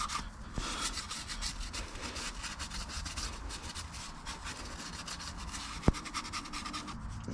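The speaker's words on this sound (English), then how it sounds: "Now to clean up the surfaces, a little Scotch pad." Steady abrasive scrubbing of a Scotch pad over a Toyota Camry transmission pan gasket surface, a continuous close rasping rub with one sharp tap near the end.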